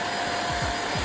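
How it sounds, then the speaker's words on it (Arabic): A 600-watt corded vacuum cleaner with a five-metre cord runs steadily, giving a continuous loud, even whooshing roar with no talk over it. "مكنسة ريبون غيرت المعادلة تماماً. بقوة شفط 600 واط بتسحب أدق الأوساخ"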